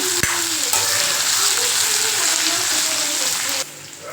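Pirandai (adamant creeper) sautés with salt in a pan, a continuous close sizzle with scraping stirs and a few clinks of the utensil, running steadily before dropping away abruptly near the end.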